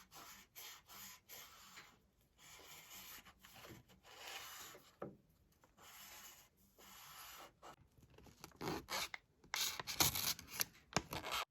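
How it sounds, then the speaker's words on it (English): Plane iron rubbed back and forth on 600 grit sandpaper, giving rhythmic close scraping strokes with short pauses between passes, louder toward the end. "So we got it as good as we can go with 600 grit"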